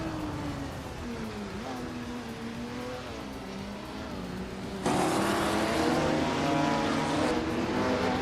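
Ferrari and McLaren race cars roar through a racing video game, a steady engine drone with pitch shifts as they run the straights, growing louder and broader partway through as more cars close in.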